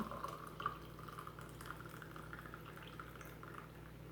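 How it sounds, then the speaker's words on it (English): French press coffee pours in a steady, continuous stream into a 10-ounce cup, a soft trickling hiss with no talking, close by and moderately quiet. "Pour your fabulous cup of coffee."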